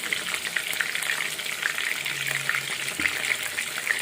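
A whole fish fries in hot oil, giving a loud, continuous close-up sizzle and crackle that never lets up.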